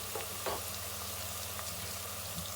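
Onions and spices for an aloo methi dish fry in a pan with a soft, continuous sizzle, quiet and steady, with a few faint stirring scrapes.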